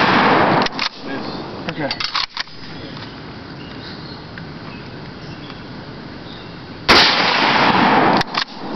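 Rifle shots from a short-barreled rifle with duct tape over its sights ring out outdoors: a cluster of sharp reports early on, then two loud cracks near the end, with a brief spoken word between.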